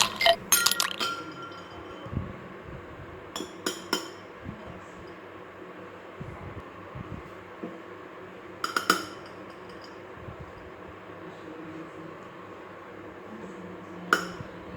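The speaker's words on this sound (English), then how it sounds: "add 3/4 cup of milk in it, or you can also add more, and add 2 to 3 ice cubes in it." A few ice cubes clink sharply into a glass of milk in a kitchen, several bright, close taps in small clusters separated by quiet gaps.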